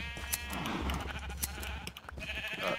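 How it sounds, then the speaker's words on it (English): Video game sheep bleating while being sheared, clear repeated bleats over a constant hum and game sounds, moderately quiet. "I'm shearing the sheep again"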